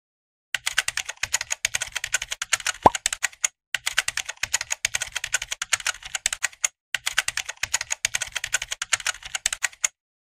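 Computer keyboard being typed on in steady, rapid bursts of crisp key clicks with a few brief pauses, close and clear, with no voices.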